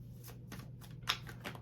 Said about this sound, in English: Let me just do a couple more shuffles.